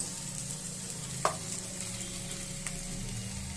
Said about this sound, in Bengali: পেঁয়াজটা দেখো হালকা ভাজা হয়ে গেছে এর মধ্যে আমি গিলেমেটেগুলো সব দিয়ে দেবো